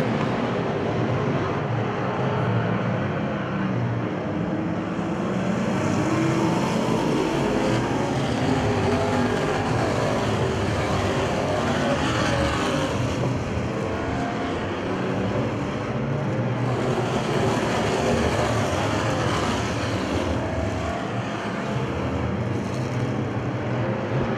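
Race cars circling a track with one car leading and a pack battling behind, their engines a continuous loud roar that swells and fades as they pass, with no talk.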